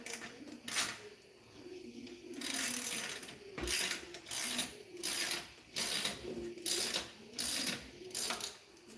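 A ratchet wrench turning bolts during work on a 112 sidetag truck, repeated bursts of clicking pawl strokes in a steady back-and-forth rhythm, close and loud with no talk.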